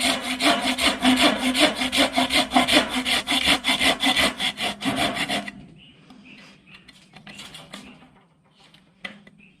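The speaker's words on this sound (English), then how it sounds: "might help if I can start the saw" A hand saw cuts through wood in fast, rhythmic back-and-forth strokes, loud and close for about five seconds, then stops, leaving faint scraping and handling noises.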